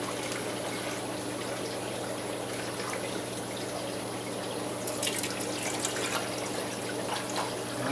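Water pours steadily into a container, a continuous splashing trickle with a brief brighter gush partway through, close and moderately quiet.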